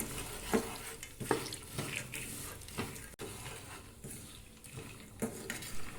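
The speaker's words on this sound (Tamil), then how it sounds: "பொட்டுக்கடலை சேர்த்து இரண்டு நிமிடங்கள் வரை நன்றாக கலந்து விடவும்" Masala fried gram gets stirred in a pan, a spoon scraping and clinking against the metal in repeated strokes over a soft frying hiss, with faint background noise throughout.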